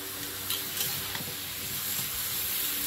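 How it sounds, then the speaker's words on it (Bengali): Pumpkin and potato pieces stir-fried with spices in a pan for a Bengali curry, giving a steady close sizzle with scraping stirs, no voices. "ভালো করে এখন কষিয়ে নিতে হবে, মশলার সঙ্গে মিশিয়ে কষিয়ে নিয়েছি।"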